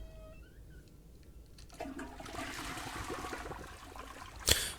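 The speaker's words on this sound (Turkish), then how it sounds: "Sifon çekebiliyoruz." A toilet flushes in the video game Forgive Me Father 2, a rushing, gurgling swirl of water that builds and drains over a few seconds, ending with a sharp clunk of the lid closing.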